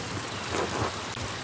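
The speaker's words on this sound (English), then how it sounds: "Look at this rain." Steady, dense rainfall fills a scene in the video game Pentiment, a continuous hiss with no voices over it.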